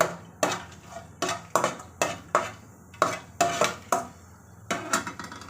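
Whole cloves, black pepper and green cardamom hitting hot oil for a restaurant-style chicken malai handi, heard as a run of sharp metallic clinks and stirring knocks against the pot with a light sizzle underneath, close and steady, no talk.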